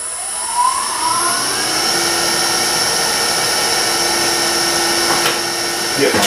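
A wood lathe spinning a curly maple walking-cane blank, giving a loud steady whine and whir with a rising tone as it spins up, close by, with no talking.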